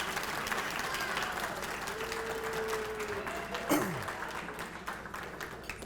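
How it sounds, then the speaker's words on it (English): Applause fills the room at an alumni hall of fame induction ceremony, a steady wash of many hands clapping at a moderate distance. A brief thump comes near the middle as the clapping carries on, and a faint tone runs underneath. "she and the other committee members deserve a large round of applause for all that they do to put this together"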